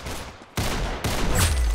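Rapid video game gunfire bursts in loud, close, abrupt volleys that start and cut off sharply, with a dense crackling texture and no voices.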